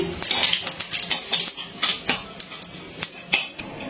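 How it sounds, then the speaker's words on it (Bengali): A spoon clinks and scrapes repeatedly against a pan while whole spices (bay leaf, dried red chilli, cinnamon, cardamom and cumin seeds) are stirred in hot oil, making a close, irregular run of sharp metallic taps with no voices. "ফোড়নটাকে একটু নাড়াচাড়া করে নিচ্ছি"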